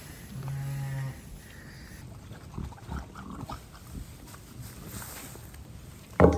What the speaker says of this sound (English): what a belting lamb that is for a tiny little sheep